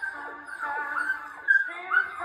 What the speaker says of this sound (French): Pauvre petit chien, mais c'est un chien noir.